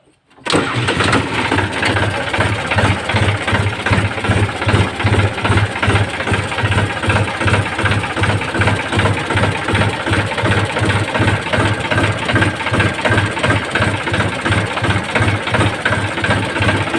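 The diesel engine of a Ford New Holland TT45 tractor with about 4,000 hours idles steadily and close by, with a deep, regular knocking chug that holds even throughout, with no voices.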